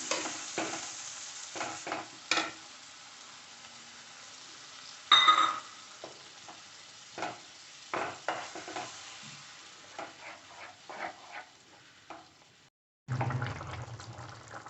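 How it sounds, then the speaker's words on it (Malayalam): Paneer masala gravy of ground tomato and curd bubbles and sizzles steadily in a pan, with occasional scraping stir strokes and spoon knocks, close by and with no talking. "നമ്മുടെ ഗ്രേവി ഇവിടെ തിളച്ച് വന്നിട്ടുണ്ട്."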